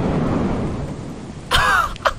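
Thunder from a lightning strike in the video game Lethal Company: a loud, sudden crack around the midpoint with a rumbling tail, then a second shorter burst, following a low steady rain-like wash.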